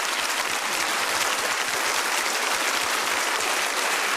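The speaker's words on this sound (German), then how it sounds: "Applaus für euch und ein Applaus für die Landfrauen" Audience applauds continuously for country women cooks on a cooking show, dense clapping that holds steady throughout with no break.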